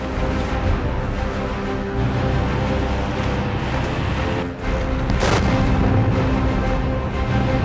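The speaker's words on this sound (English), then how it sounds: "You hear the bullets in the back? Oh yeah, and I hear bombs going off too." Continuous heavy gunfire and booming blasts roll on throughout, dense and steady like a distant battle, with a brief dip before a sharp louder burst near the end.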